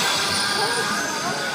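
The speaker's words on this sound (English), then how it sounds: "obviously, Tram." A city tram rolls past on its line, a broad rushing rumble with a faint metallic hiss. It stays loud and close for the whole moment.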